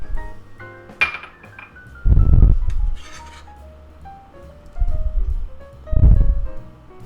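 Ingredients for spinach, onion and cheese toast clink into a glass bowl in a kitchen, a few sharp clinks followed by three heavier tumbling bursts of food landing, fairly close, with no talking.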